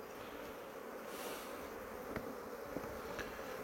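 Honey bees buzzing around a beehive during winter preparation, a faint, steady droning hum of many insects with a few soft knocks, no voices.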